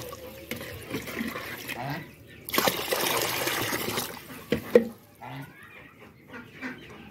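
Water pours into an 8-litre poultry drinker, a splashing trickle that swells into a loud rush for a couple of seconds, with hens clucking around it and a few knocks and handling noises.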